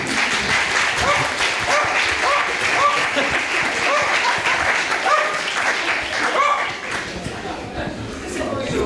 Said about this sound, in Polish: To prosimy o, o oklaski dla ekipy.